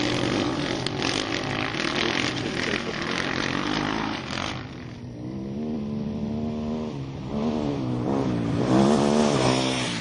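A Sherco 4.5i off-road dirt bike engine climbs through its revs on a trail, rising and falling in smooth, loud sweeps, with no voices over it.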